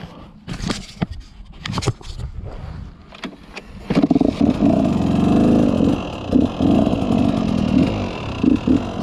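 Dirt bike engine revving in short bursts as the clutch is popped, loud and close, with an uneven rise and fall after a few sharp knocks at the start.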